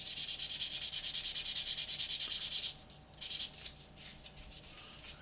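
A model aircraft canopy is dry sanded and polished with rapid, rhythmic rubbing strokes, close and soft, that stop midway and give way to sparse, lighter rubs.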